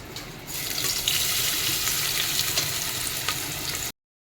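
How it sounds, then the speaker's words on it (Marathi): Onion frying in hot oil on a home stove for a chicken curry, a steady, loud, continuous hiss and sizzle that starts abruptly and runs without pause, alone with no talk. "तर आपण आता हा कांदा त्याच्यामध्ये आता टाकणार आहोत."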